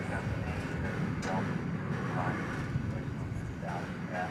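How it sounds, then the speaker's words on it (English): A three-year-old Boeing 787-9 Dreamliner bound for Sydney takes off from runway 20 left at DFW Airport, its jet roar steady and distant beneath ongoing voices. "3-year-old Dreamliner Dash 9."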